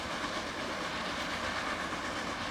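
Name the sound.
train running in a video game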